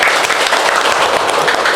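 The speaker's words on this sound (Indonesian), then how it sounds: "Oke, tepuk tangan ya, tepuk tangan dulu." Loud, close applause fills a scholarship podcast recording, a thick wash of clapping hands sustained at full level without voices over it.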